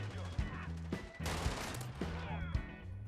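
Fennec submachine gun in Call of Duty firing rapid close bursts, a dense rattling stream of shots broken by short pauses and punctuated by sharp impacts.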